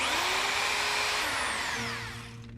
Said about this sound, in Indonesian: Lalu Kang melakukan pengeboran dan menyetel alarm dalam waktu 3 menit.